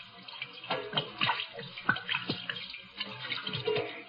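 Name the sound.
hands being washed with poured gin, radio drama sound effect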